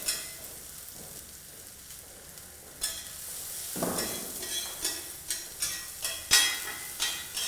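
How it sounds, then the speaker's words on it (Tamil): Curry leaves and coriander sautéing on a hot tawa, a steady soft sizzle broken by a run of regular stirring scrapes and taps that grow brisker toward the end, close by with no talk. "லைட்டாக தவாவில் வதக்குறோம்"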